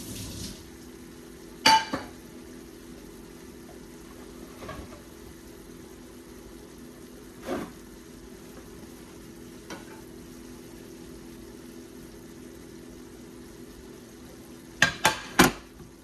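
Beef tenderloin steak frying quietly in a pan, a soft steady sizzle broken by a few sharp clinks of utensils against the pan, close by and without talking.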